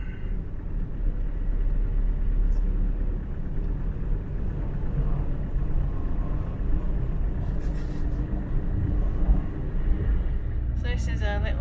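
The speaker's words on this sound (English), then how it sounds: "So this is a little drive through Ballycastle." A car drives through Ballycastle town centre in Ireland, a steady low engine and road rumble inside the cabin, with a few brief clicks and rattles near the end.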